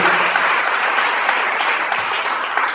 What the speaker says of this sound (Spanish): Den ese fuerte aplauso a Él en esta tarde.